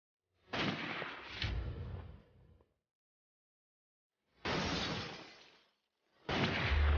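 Sniper rifle shots fired at targets over 200 metres away, through artificial smoke and mountain fog during a precision shooting contest; three separate loud, sustained blasts with short gaps between them, with no talking.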